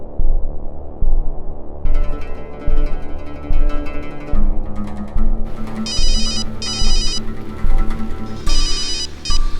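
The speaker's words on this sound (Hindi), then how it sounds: "रानी का फोन है।" A phone rings loudly with a repeating electronic ringtone over a low, throbbing hum, the rings coming in bursts.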